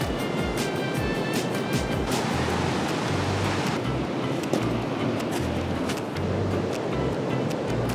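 Ocean surf rolling onto the beach at La Jolla, San Diego, a loud continuous wash of breaking waves with wind rumble on the microphone and no talking.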